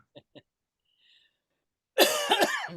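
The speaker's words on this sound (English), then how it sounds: "Excuse my coughing" Two short soft coughs, a brief pause, then a louder harsh burst of coughing up close.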